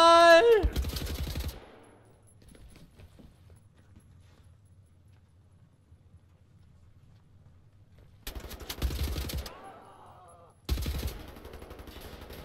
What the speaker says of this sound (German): Ja, schieß gegen die Wand, du bist so schlau.